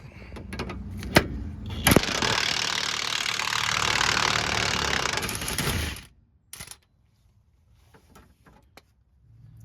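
An impact or power tool whirs steadily for about four seconds while removing the bottom nut of a Honda Pilot's aftermarket rear shock absorber, framed by metallic clanks before and scattered taps and clicks after it stops.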